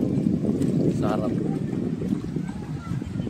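Wind rushes and buffets the microphone on open water near Samal Island, Philippines, a steady low roar with a boat's rumble and a brief voice-like sound.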